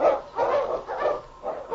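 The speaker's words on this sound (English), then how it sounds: "The Wonder Dog King, swiftest and strongest of Eskimo lead dogs" A husky sled dog, an Eskimo lead dog in a radio drama, barks in four evenly spaced, close, bright barks with short gaps between them.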